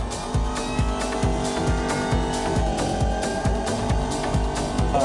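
Racing-simulator car at an event, its engine droning loudly with a steady rhythmic pulsing and rising revs, joined by tire squeal, continuous and close with no talk.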